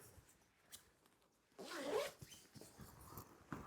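A zipper drawn along a zippered compartment of a carry-on backpack, one quiet close pull lasting a couple of seconds after a near-silent pause, then a few lighter fabric rustles.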